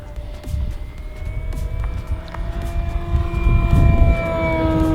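An E-Flite Carbon-Z Cessna 150T RC airplane with a 2.1 m wingspan flies at full throttle, its electric motor giving a loud, steady whine that slowly rises and shifts in pitch over rumbling wind noise.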